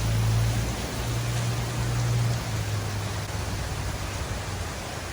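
Steady rain falls outside during summer in Puerto Vallarta, Mexico, a dense, constant hiss with no break, fairly loud and with no voices over it.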